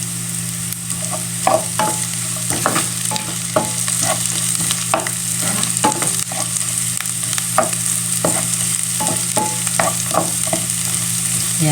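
Onion and garlic sauté in a hot pan for pininyahang manok, a loud continuous sizzle broken by frequent scrapes and clinks of stirring, with no talk.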